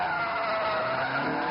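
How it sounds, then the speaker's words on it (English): Race car sliding and skidding out of the final corner at the Race of Champions event in Miami, a steady high tire squeal over engine roar throughout, loud and continuous. "slide coming out the final corner from Vettel"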